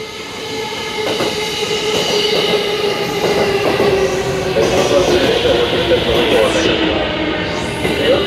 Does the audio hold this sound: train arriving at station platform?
yes